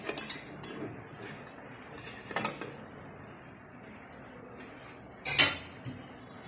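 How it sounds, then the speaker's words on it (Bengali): Lid lifted off a pot of steamed mango pudding, a few sharp metallic clinks and clatters with a louder clank near the end, separated by quiet stretches, no voices. "30-35 মিনিট পরে আমি ঢাকনাটা খুলে দেখছি পুডিংটার কি অবস্থা।"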